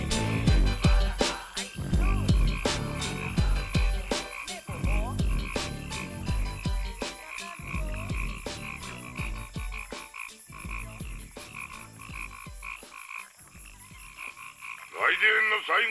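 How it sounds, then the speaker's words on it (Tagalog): Rhythmic frog croaks run through a rap song, repeated rasping calls layered with the beat and vocals, loud and steady with a louder burst of croaking at the very end. "naninilip na palaka"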